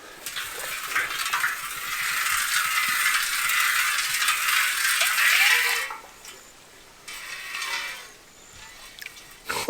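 Wet gravelly rattling and swishing as a gold pan is worked with creek gravel and water, a continuous close churn that pauses and resumes.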